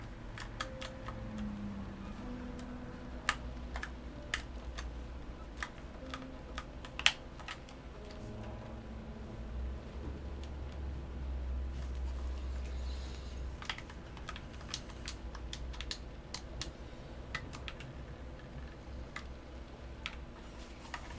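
Keys on a computer keyboard are tapped in a quiet, irregular patter, with scattered clicks and short pauses against a faint hum.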